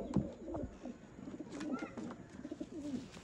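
Pigeons coo in soft, low repeated phrases at close range, with a few wingbeat-like flutters and rustles, from a pair in a loft of Kamagar and Teddy breeds.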